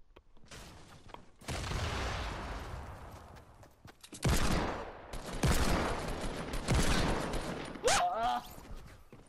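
Gunfire in the Fortnite video game, heard as bursts of rapid shooting with several volleys of loud, dense fire over a busy game mix, with a voice briefly heard along the way.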